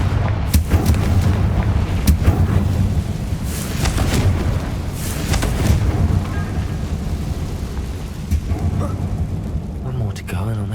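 Confringo explosive spells in the Hogwarts Legacy video game burst as a series of booming blasts over a steady low rumble of game music and ambience, a few sharp hits standing out across the span.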